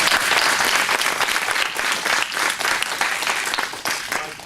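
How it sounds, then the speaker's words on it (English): Loud, continuous applause from an audience for a speaker, dense clapping with slight swells in intensity throughout, no voices over it. "how about a round of applause for Nick?"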